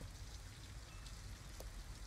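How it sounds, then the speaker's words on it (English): Steady rain falling in the video game Detroit: Become Human, a soft, even hiss of drops on surfaces with no voices, continuous and fairly quiet throughout. "At least we'd be out of the rain."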